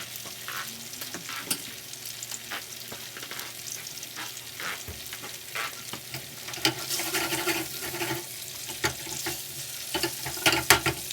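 Mushrooms and tofu fry in a pan on a stovetop burner, giving a steady, close sizzle with crackling spits and occasional stirring clatter that grows louder toward the end.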